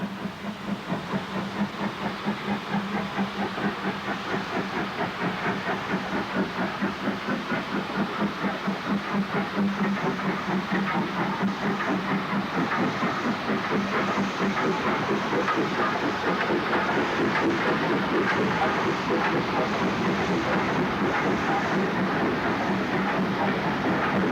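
Locomotive 92054 hauling a long train of empty freight wagons through snowy Blackburn toward Hellifield in January 1966: a loud, continuous rolling rumble with fast rhythmic clickety-clack of wheels, sustained close by for the whole stretch, no voices.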